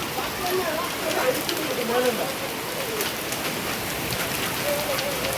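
Hailstones and rain patter and rattle densely on a surface nearby, while people talk faintly underneath.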